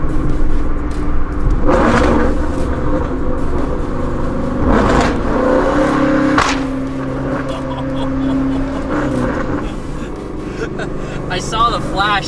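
A tuned 2014 Ford Mustang GT Track Pack revs hard on dyno rollers indoors, its loud V8 roar rising and falling in repeated surges with wheels spinning, sustained throughout under some background talk.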